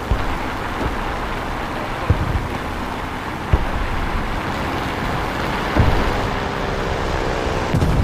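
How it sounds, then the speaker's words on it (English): Enemy tank engine in a video game, a continuous low rumbling drone coming from the left, steady and moderately loud with a few soft knocks and thuds mixed in. "I hear his engine to my left"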